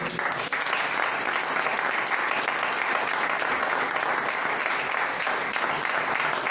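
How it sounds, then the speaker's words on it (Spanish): Steady, dense applause from a church congregation during a Spanish-language sermon, sustained at an even level throughout without any voices. "Den un aplauso."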